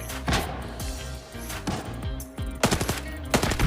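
Gunfire in the video game Arena Breakout: sporadic close shots and short automatic bursts, loud and sharp, with a quick cluster of rapid shots toward the end.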